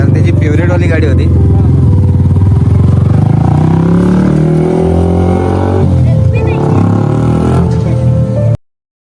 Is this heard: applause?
no